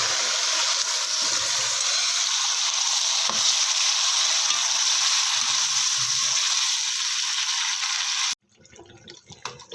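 Steady, close hiss of saag (greens) sizzling in hot desi ghee for about eight seconds, then it cuts off to quieter, uneven crackles.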